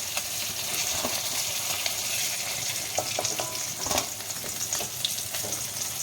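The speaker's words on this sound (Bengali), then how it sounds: "এগুলো লাল করে মাছগুলোকে ভেজে নিতে হবে" Rohu fish pieces frying in hot oil in a pan, a continuous close hiss and crackle with occasional soft pops and light stirring scrapes, no voices.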